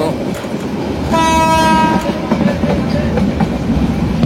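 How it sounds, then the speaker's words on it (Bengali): The Titas commuter train rolls into Amirganj railway station with a heavy rumble and rhythmic wheel clatter, and a horn sounds for about a second midway, loud and near. "এখন সময় হচ্ছে 11টা 52 মিনিট, আর আমাদের ট্রেনটি এখন আমিরগঞ্জ রেলওয়ে স্টেশন প্রবেশ করলো"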